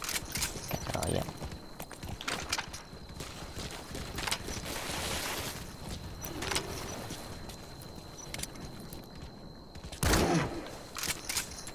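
Horse hooves thud and clop in Metal Gear Solid V: The Phantom Pain, irregular steps mixed with in-game noise and occasional sharp bursts, while a player talks over it.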